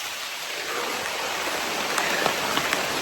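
Steady rain falls in a tropical wooded area, a dense continuous hiss with a few sharper drops standing out near the end, no voices.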